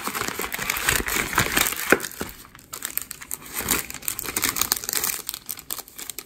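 Plastic packaging from an order is unzipped and unwrapped, giving continuous close crinkling and crumpling with brief tearing bursts throughout, with no talking.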